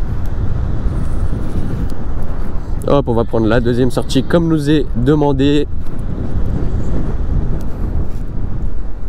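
Strong wind buffets the microphone while riding a Dualtron Thunder III electric scooter on the road, a loud continuous rushing roar throughout, with someone speaking briefly in the middle.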